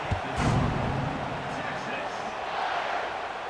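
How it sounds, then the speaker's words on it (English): A stadium crowd in College Football 26 buzzes with a broad, steady roar that swells briefly at the start, while a commentator talks over it. "this crowd is buzzing after that last score"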